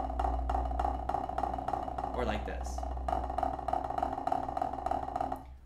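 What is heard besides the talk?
uneven snare drum buzz roll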